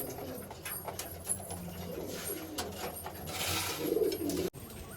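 Low, rolling coos from a pair of Malwai pigeons kept in Baruipur repeat over a busy background of faint rustling, swelling near the end before a sudden clunk and a brief quieter tail.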